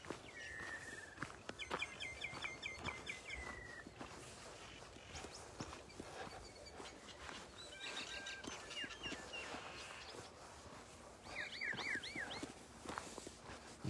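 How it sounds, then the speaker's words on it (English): Birds call outdoors in short, faint chirping bursts that come and go over a quiet background, with soft footsteps or rustling nearby. "You hear the birds?"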